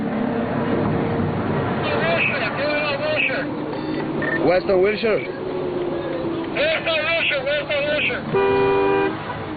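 Car horns honk repeatedly in a rush-hour traffic jam, with several toots of different pitches over a steady hum of engines, and voices talking throughout.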